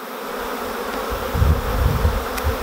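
Honey bees buzz around a hive after being moved from a nucleus box, a steady, dense, moderately loud drone with no one speaking.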